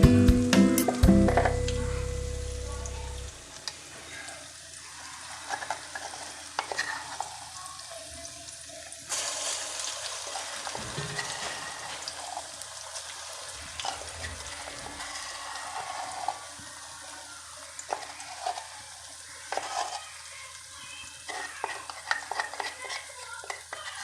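Garlic and onion fry in a pan for beef pilau, with a low, steady sizzle and scattered crackles after a louder clatter at the start.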